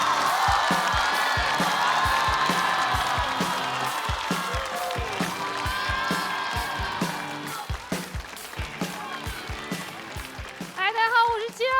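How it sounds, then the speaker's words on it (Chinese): A stand-up comedy show audience greets the next comedian, a rock musician, with applause and cheering, a sustained crowd roar with whoops that fades partway through, under a host's amplified voice and music. "掌声有请亲友"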